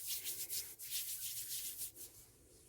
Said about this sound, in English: just give it a good scrunch up. Rub it in your hands.